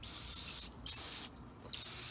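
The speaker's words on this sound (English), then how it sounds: "I'm about to spray some more degreaser on there" Three hissing bursts from an aerosol can of degreaser sprayed onto a 6.0 LQ4 engine block during teardown, close up, with brief pauses between sprays.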